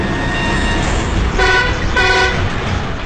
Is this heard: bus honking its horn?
yes